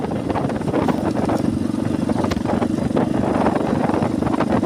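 A motorcycle engine drones as it rides along a rough, bad road in Musi Rawas, Indonesia, with uneven bumps and rattles breaking up the steady roar, loud and close.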